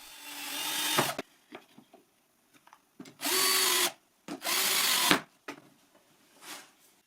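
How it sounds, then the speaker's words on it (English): Power drill driving screws into plywood stop blocks, three or four long whirring bursts with short pauses and light clatter between them, close and clear with no talk. "I screw some stop blocks all around"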